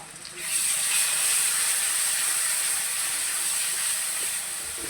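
Onion and garlic fry in a pan, a steady sizzling hiss that starts abruptly and holds for several seconds, close and fairly even, with no talking.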